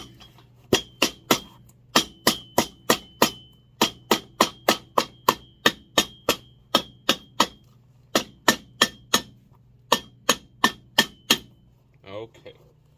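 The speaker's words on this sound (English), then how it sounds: "hammer this down." A hammer strikes an old dress shoe sole in a quiet workshop, about thirty sharp, close taps in a steady, brisk rhythm with brief pauses, ending in a softer rattle.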